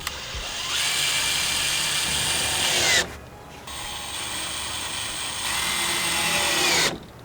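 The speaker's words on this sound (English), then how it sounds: "you want to take the new supplied Torx bit screws and install them" A power driver whirs steadily, driving the supplied Torx bit screws into a Morimoto XB LED truck tail light, in two long loud runs of about three seconds each split by a brief pause.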